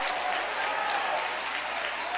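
A church congregation at a revival service claps together in a dense, steady, loud wash of many hands, with a faint murmur of voices mixed into the clapping.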